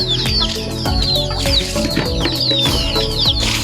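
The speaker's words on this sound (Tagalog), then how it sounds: "Ito naman yung inahin." A mother hen clucks steadily amid a busy farmyard, with high chirps from her chicks and other birds layered over the low, continuous clucking.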